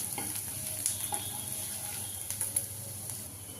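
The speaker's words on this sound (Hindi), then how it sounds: "तो प्याज को हम इसी तरीके से चलाते हुए लो मीडियम पे 1 से 2 मिनट तक भून लेते हैं।" Chopped onions frying in a pan over low-medium heat, a soft steady sizzle with occasional scraping clicks of a spoon stirring them, fairly quiet and without talk.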